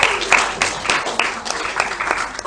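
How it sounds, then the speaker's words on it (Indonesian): An audience applauds a questioner after a question at an Islamic finance seminar, a steady wash of hand clapping with a few sharper bursts, fairly close and continuous throughout. "Tepuk tangan untuk penanya dulu."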